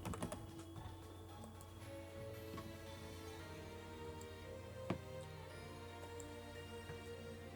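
Fast, soft tapping on a computer keyboard, a quick patter of keystrokes near the start, then scattered light clicks over a low steady hum, fairly faint and close.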